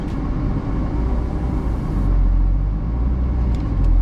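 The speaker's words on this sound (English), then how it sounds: "Slowly let off your clutch foot, and then once you're about in the middle, then give it the throttle." Manual car pulling away in first gear, a steady low engine rumble heard from inside the cabin that swells slightly as the throttle is applied midway.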